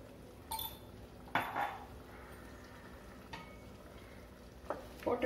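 A utensil clinks and scrapes in a cooking pot as chili powder and turmeric are stirred into a broad bean kuzhambu, a few sharp metallic taps spaced apart over quiet kitchen background.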